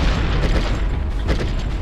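C4 charge detonating in the video game Conflict: Desert Storm, a heavy rumbling blast that rolls on with dense low booms and crackling debris throughout a short burst.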